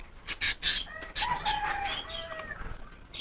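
Young chicks in a small backyard carrier cage give high, thin peeps and cheeps in scattered bursts, close by, with no talk over them.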